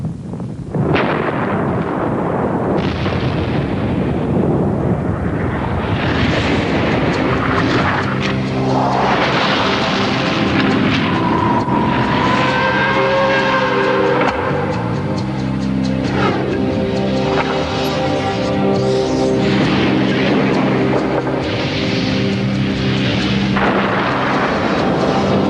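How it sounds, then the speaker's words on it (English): The 1980 Mount St Helens volcanic eruption comes through as a massive, sustained roaring rumble with deep booming surges, loud and continuous throughout, without any voices. "the biggest explosion ever seen in the United States"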